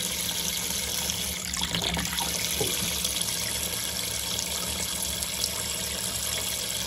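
Water runs steadily and strongly from hot and cold taps after a full descaling of the hot and cold water system, a continuous close rushing flow with no speech.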